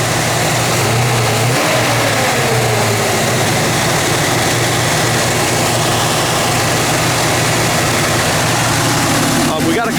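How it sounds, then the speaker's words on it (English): A 1968 Chevelle SS engine runs at fast idle, a loud, steady close-up rumble that holds constant throughout, with a faint sharp sound at the very end. "Underneath the hood, we're still kind of at fast idle."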